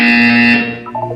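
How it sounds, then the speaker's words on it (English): A loud electronic test-chamber buzzer from the Portal 2 video game sounds as one sustained harsh tone that cuts off, followed by fainter lower tones. "You will hear a buzzer. When you hear the buzzer, look down at the floor."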